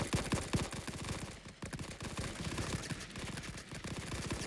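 Machine gun fire in the Great War sandbox game Rising Front, a dense, fast rattle of rapid shots sustained across the whole stretch at a steady, fairly loud level with no voices.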